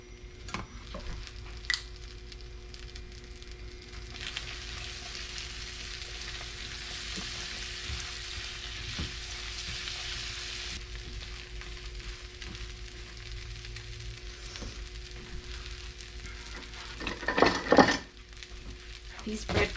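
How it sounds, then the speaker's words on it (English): Breadcrumbs tossed in olive oil and butter toast in a pan with a soft continuous sizzle and scattered scraping stirs, and a louder clatter of utensil against pan near the end. "you want to continue tossing them and cooking them until they kind of get toasty."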